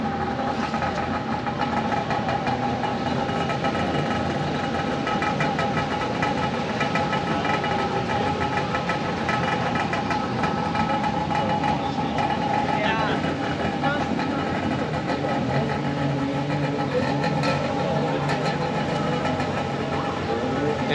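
A 1970 Arctic Cat Panther snowmobile's 760 two-stroke engine runs steadily and loudly the whole time, a continuous rough drone with a rattling, knocking texture.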